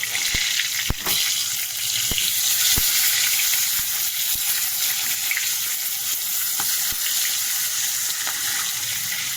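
Pieces of fish frying in a pan give a loud, steady sizzle, with several sharp clicks and knocks from being turned and flipped over the hiss.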